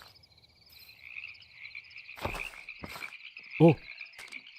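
Frog croaking in the video game Minecraft: a few soft croaks over a steady ambient tone, then one loud, close, throaty croak near the end.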